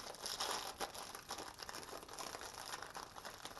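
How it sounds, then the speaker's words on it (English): Cellophane wrapping on a Rafo Milk Frother D02-B box crinkles and rustles as it is opened, a faint, busy crackle that lasts a few seconds close by with no talking. "Bit of cellophane to open up."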